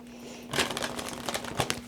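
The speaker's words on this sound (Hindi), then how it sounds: "तो कार्ड्स को शफल करते हैं पायल नंबर 2 वालों के लिए।" Tarot cards are shuffled by hand close up, a quick run of papery flutters and soft slaps starting after a short pause, over a faint steady hum.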